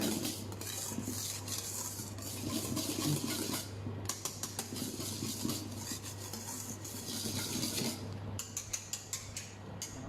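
A whisk working meringue into cheesecake batter in a mixing bowl for a Japanese cotton-soft cheesecake, with repeated clicks and taps against the bowl over a steady low hum, close and fairly quiet.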